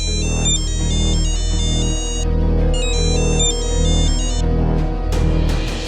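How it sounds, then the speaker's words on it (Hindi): A loud, close phone ringtone plays a repeating electronic melody in short bursts, with no talking. "बार बार कॉलेज से फोन आ रहा है"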